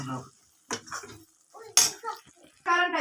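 A metal pan lifted off the stove and its contents scraped and poured into a bowl, a few close, separate clinks and scrapes with quiet gaps between them.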